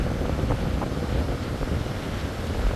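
Strong wind buffets the microphone on a mountain hike, a loud roaring rush with gusty low rumble filling the whole stretch, no voices heard.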